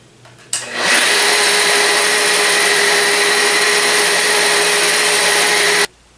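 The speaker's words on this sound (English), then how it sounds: "So I'm going to run at all the way down on this polisher, which is about 700 RPM." A quartz countertop polisher runs at its lowest setting of about 700 RPM, a steady loud whirring motor hum that starts after a brief lead-in, holds unchanged for about five seconds, then cuts off abruptly.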